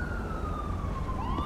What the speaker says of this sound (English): I'm pretty sure that's our siren that's running